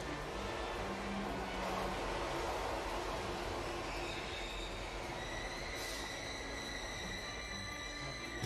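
A subway train rumbles steadily nearby, wheels grinding with a rising metallic squeal partway through, no voices.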